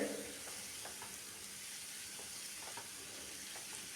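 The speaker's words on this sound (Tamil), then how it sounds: "இது நல்லா கிளறி விட்டு வதக்கிக்கலாம்" Chopped capsicum and onion sauté in a pan for butter garlic masala pasta, making a quiet, even frying hiss broken by a few soft stirring taps.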